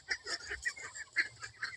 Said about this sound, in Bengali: এই দেখো আমাদের হাঁস, শুনতে পাবে?